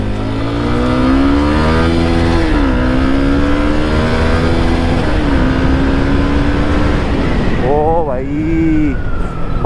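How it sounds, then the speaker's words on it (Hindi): A motorcycle accelerates hard in first gear on a ride heading off-road, its loud, close engine whine climbing steadily in pitch, then dipping and surging again near the end. "इसको थोड़ा सीधे में खींचते हैं और इसका पिकअप चेक करते हैं यार।"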